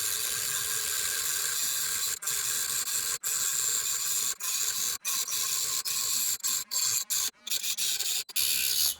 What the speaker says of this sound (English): Can you cut a screw with the Dremel Stylo?